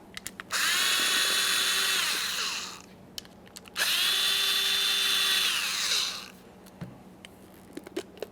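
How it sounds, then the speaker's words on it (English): A power drill or driver whirs through two long bursts, spinning out 8mm screws from the distributor cap of a 1994–1997 Honda Accord, each whine winding down before a pause and light clicks, close and loud. "We want to remove each of these 8mm headed screws to remove the cap."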